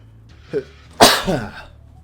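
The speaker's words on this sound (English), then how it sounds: "Now that my sneezing is out the way" A single sharp sneeze, close and loud, with a small breathy intake just before it and quiet room tone around it.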